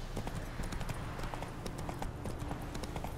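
Rapid, rhythmic horse hoofbeats clop steadily throughout, a quick galloping pattern at moderate volume with no other prominent sounds, in the video game The Witcher 3: Wild Hunt.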